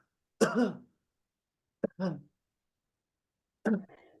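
A person imitates an elderly adult's dry cough: three short, harsh coughs spaced by pauses, close and clear.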